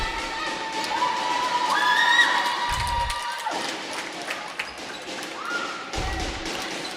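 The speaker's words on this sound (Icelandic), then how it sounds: "Fagna hérna góðum sigri." Víkingur girls' handball fans keep cheering and celebrating a win in an indoor hall, with shrill shouts and crowd noise and occasional low thumps, moderately loud and continuous.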